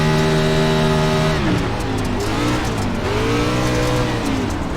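NASCAR A Class race cars roaring around the Bristol dirt track in the iRacing game, a dense loud engine drone with rising and falling pitch as several cars run close together, no talk.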